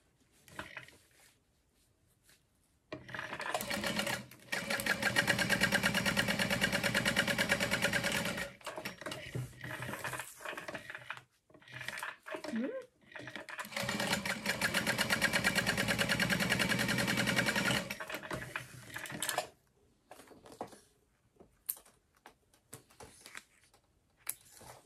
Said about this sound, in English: we're going to top stitch along the top edge